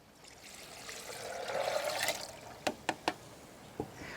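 Water pours into a blender holding two cups of soaked almonds, a steady splashing trickle that swells and then stops, followed by a few sharp knocks.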